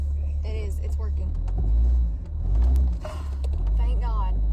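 A car engine runs in a video game, a steady low rumble that swells and dips, heard under excited talking.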